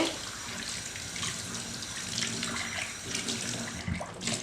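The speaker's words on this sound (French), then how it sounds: "Je vais rincer." Tap water runs steadily over a freshly soap-washed glass in a sink, a close, continuous rushing splash that shifts slightly as the glass is turned and rinsed, with no voices.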